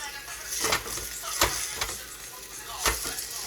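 Steaks sizzle steadily in a hot pan, a continuous crackling hiss broken by a few sharper spits and bursts, fairly close and alone.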